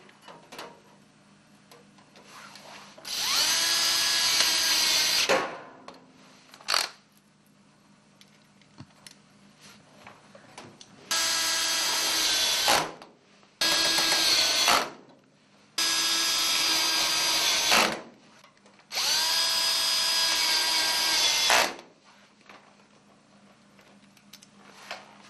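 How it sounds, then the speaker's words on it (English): A power drill drives screws to fix an air cleaner part in place, five whirring bursts of a few seconds each with short gaps between them, close and loud over a low background hum. "so I'll go ahead and screw it in place."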